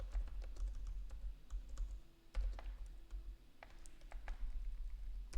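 Keys clatter steadily on a computer keyboard while code is typed, a run of close, crisp clicks with brief pauses and a low room hum beneath.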